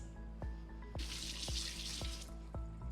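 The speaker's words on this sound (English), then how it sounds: "rinsing off my mixing spoon from the muffin mix" A running kitchen tap splashing into a sink as a mixing spoon coated in muffin batter is rinsed, a close steady gush that brightens into a fuller spray partway through, with faint periodic clicks underneath.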